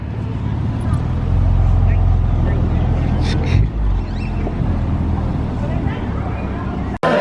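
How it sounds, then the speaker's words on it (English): A 450+ whp BMW M3 gives a loud, steady engine roar with deep rumbling exhaust throughout, briefly dipping midway, people talking faintly underneath, ending in a sharp cutoff. "Exhaust is so loud."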